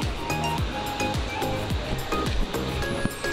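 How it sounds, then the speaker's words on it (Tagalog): Kawasan Falls, a multi-level waterfall in Cebu, roars as a steady broadband rush of falling water with short thuds and splashes over it throughout, loud and close. "Kawasan falls to eh."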